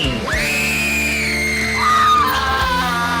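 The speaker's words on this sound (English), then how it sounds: "The night began with a horrifying scream." A loud, sustained human scream that rises sharply, holds a wavering pitch and then drops before cutting off, heard alone without other talk.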